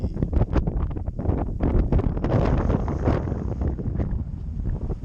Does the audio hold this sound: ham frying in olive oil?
no